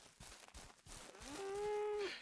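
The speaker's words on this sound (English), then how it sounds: "Cattle." Cattle in the game Ranch Simulator, with soft shuffling sounds followed by one drawn-out moo that swells near the end, heard close and alone.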